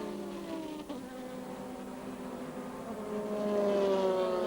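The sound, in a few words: Lister Storm GT race car engine racing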